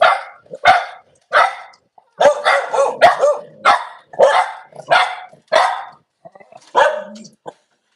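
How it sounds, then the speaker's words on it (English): A dog barks repeatedly and loudly nearby, a run of sharp barks in uneven bursts with brief gaps, some clustered quickly together, heard alone without talk. "I'm so sorry that all that dog barking is going on"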